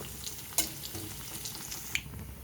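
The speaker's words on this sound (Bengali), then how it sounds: "সর্ষেটাকে খুব ভালোভাবে ভেজে নেব আর রসুনটাকেও লাল করে ভেজে নেব" Mustard seeds and garlic frying in hot oil for a pumpkin and taro curry, giving a soft, steady crackle with a couple of sharp pops from the seeds, fairly quiet and without talk.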